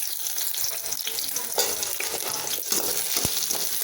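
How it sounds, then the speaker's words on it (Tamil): About ten small onions and a couple of pieces of cut coconut sauté in hot oil for a mushroom salna. There is a steady, fairly soft sizzle with a few brief stirring scrapes and no talking. "இதெல்லாம் நல்லா வதக்கிக்கலாம்."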